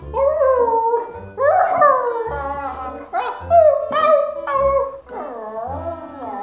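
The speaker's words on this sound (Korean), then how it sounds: "자꾸 개소리가 들리는데" A dog howls and whines loudly and close by during an emergency call. It gives long, wavering howls in several bursts across about six seconds.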